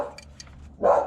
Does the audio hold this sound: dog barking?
yes